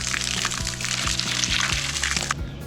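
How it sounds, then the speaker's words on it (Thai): Water pumped into a nearly full tank by a 12 V DC submersible pump, a continuous close splashing pour with a low rhythmic gurgle and hum underneath. "ส่งน้ำได้เร็วด้วยเพราะว่าเมื่อกี้น้ำเกือบเต็มถังแล้วครับ"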